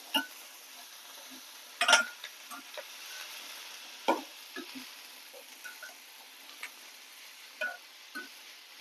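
Chopped potatoes sautéed and stirred in a pan for spicy potato podimas, sparse spatula clicks and scrapes over a faint low sizzle, the taps irregular and close.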